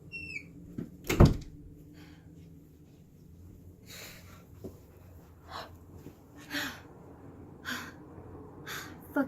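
A bathroom door is forced open with one loud thump and rattle, followed by quieter knocks, scrapes and heavy breathing in a small room.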